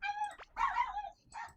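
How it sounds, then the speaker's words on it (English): A dog in a video game giving a short series of faint whimpering yips and barks, close and isolated, with brief pauses between calls. "And off my doggy goes. Bark, bark, bark, bark, bark, bark."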